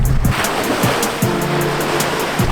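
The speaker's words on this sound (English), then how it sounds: "I just love the beach so much." Ocean surf on a beach makes a loud, continuous rushing wash, with wind gusts buffeting in short bursts over it; no one talks.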